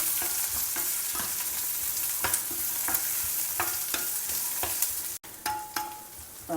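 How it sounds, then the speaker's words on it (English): Sliced onions and curry leaves saute in a pan for masala dosa filling, a steady close sizzle broken by repeated scraping stirs of a spoon. "onions sliced and a few curry leaves. Saute the onions."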